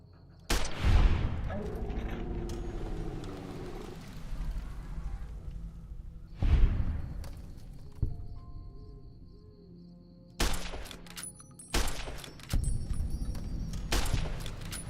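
Gunfire from a survival video game played with the DUST difficult survival overhaul mod, with a few sharp shots spaced across the stretch, some close together and others isolated, over a steady game background.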